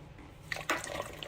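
Water is poured into a pot while making chicken stock, a short splashing trickle that starts after a quiet moment, with a few soft drips and gurgles, fairly faint.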